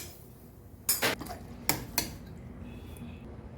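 Metal utensils clinking against a pot as payasam is poured out for a Vinayagar Chaturthi offering, with a few sharp close scrapes and clanks over a quiet kitchen background.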